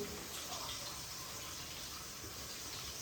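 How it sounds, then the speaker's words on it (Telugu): Water pours steadily into a cooking pot of bitter gourd curry, a continuous broadband rush that holds at an even level for the whole stretch with no talk over it. "ఇప్పుడు దీంట్లో కొన్ని వాటర్ అయితే వేసుకోవాలి"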